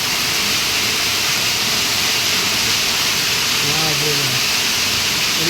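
Rainwater gushes down steps during a heavy Mumbai downpour, a loud steady roar like a waterfall, with a voice speaking briefly over it near the end.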